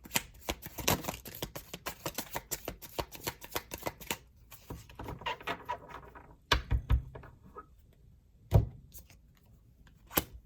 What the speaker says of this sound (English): Let me give this one last shuffle.